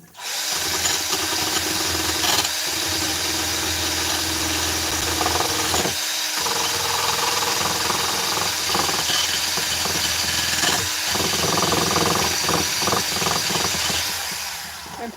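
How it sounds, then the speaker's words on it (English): A Scotch-Brite wheel on a power tool grinds metal chainsaw parts down to bare metal, a loud continuous whirring abrasive roar with brief dips as the wheel leaves the work, close by. "Now I can take my Scotch-Brite wheel"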